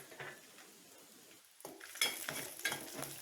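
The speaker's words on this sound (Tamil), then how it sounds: "பூண்டு போட்டு நல்லா அந்த எண்ணெயிலேயே வேக விடுங்க." Garlic cooking in a spoonful of oil in a pan, with a soft sizzle broken by scraping and clinking of a utensil stirring against the pan, growing busier toward the end.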